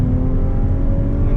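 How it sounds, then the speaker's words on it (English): An Audi S4 B9 with 034 Motorsport upgrades accelerates in second gear, its engine droning steadily and close by in a brief, loud burst. "you got some noise coming out of the car too as I'm getting on its second gear"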